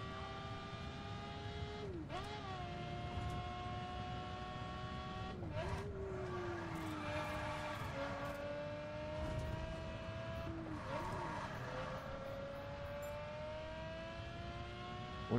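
A Lamborghini Aventador LP 700-4 in the video game The Crew accelerates hard, its engine note climbing through the gears in loud, steady pulls, with short drops at each shift and no talk over it.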